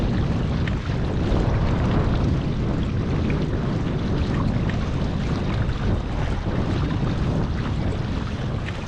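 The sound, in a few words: wind on a lake during kayak fishing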